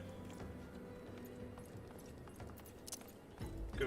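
Hoofbeats of a dragon-horse hybrid mount in Final Fantasy, a faint, steady clip-clop gait under quiet game ambience, growing a little louder near the end.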